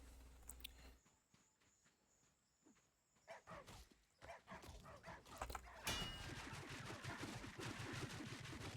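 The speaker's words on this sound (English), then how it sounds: "Damn dogs." Dogs bark in the survival video game Soulmask, faint and mixed with footsteps, hoof-like clip-clop and busy combat clatter that grows denser and louder toward the end.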